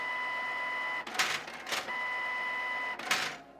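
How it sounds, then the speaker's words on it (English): An office printer feeds a sheet of paper oiled with vegetable oil through its rollers, a steady whirring hum broken by three short mechanical bursts as the sheet grinds through. "it was actually difficult for the rollers of my printer to take it through"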